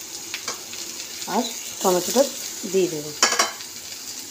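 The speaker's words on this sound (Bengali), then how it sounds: "তো মশলাটা কষানো হচ্ছে" Spice masala with ginger and garlic frying and being stirred in a pan for a soybean curry, a steady sizzle under someone speaking, with scraping stir strokes.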